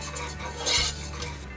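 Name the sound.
risotto rice added and stirred in pan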